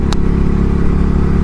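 A motorcycle fitted with an aftermarket exhaust idles with a loud, steady, close-up burble and faint rev pulses, with no voices over it.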